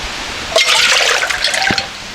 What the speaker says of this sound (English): I'm gonna pour a whole cup in here.